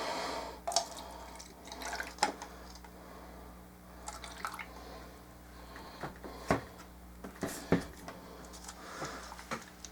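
Water is added to acrylic paint to thin it at a roughly one-to-one ratio, heard as faint, sparse drips and small liquid plops with occasional light knocks in a quiet room.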